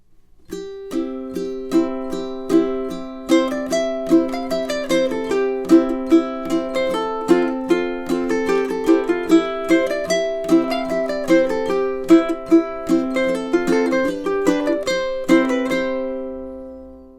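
A plucked ukulele plays the Irish folk reel "St. Anne's Reel", bright picked melody notes over strummed chords, steady and continuous with no voices.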